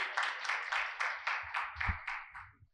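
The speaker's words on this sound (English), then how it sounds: "Can we please have a huge round of applause for our panelists once again?" A single person claps about eight times at an even pace, fairly close, after a panel discussion, each clap sharp and distinct with no crowd joining in.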